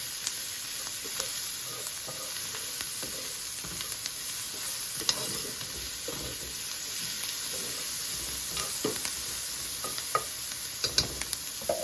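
A whole stick of butter melts and sizzles in a hot pan with a little olive oil, a steady, close, crackling hiss throughout with faint scraping of stirring.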